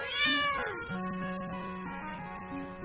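A cat gives a drawn-out, wavering meow, loud and close, bending in pitch across nearly three seconds with little else around it.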